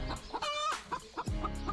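A pet farmyard rooster named Črnček clucks repeatedly at close range, with short choppy calls and a brief crow-like stretch partway through, loud and alone without talk.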